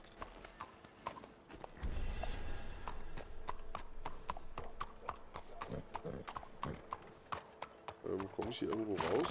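Horse hooves clip-clopping in Red Dead Redemption 2, a steady run of close hoof beats with a brief low rumble early on and some talk over the top.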